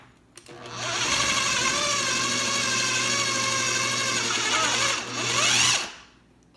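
An electric kitchen appliance whirs steadily while mixing cream cheese for spinach artichoke dip, a loud close motor drone that rises in pitch near the end before stopping abruptly.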